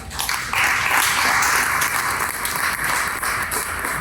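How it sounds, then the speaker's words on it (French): Church congregation applauding during a Sunday sermon, a dense, loud, steady roar of many hands clapping that swells in after a brief start and holds for several seconds. "Tu peux acclamer si je te parle."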